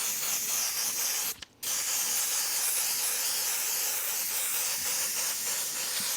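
An airbrush sprays pink paint around the outside edges of a stencil on a T-shirt, a loud steady close hiss that stops briefly for a moment near the start and then carries on uninterrupted.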